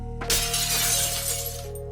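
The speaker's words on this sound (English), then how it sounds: "followed by the sound of cracking glass and the loudest slam yet" Glass window cracking and shattering in a sudden loud crash, a burst of bright breaking noise that sustains for over a second against a steady low hum, then fades quickly.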